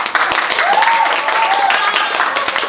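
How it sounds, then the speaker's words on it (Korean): A theatre audience at a play's curtain call applauds with steady, dense clapping that fills the whole moment, heard up close, while a voice briefly calls out over it. "다 같이 박수 한번."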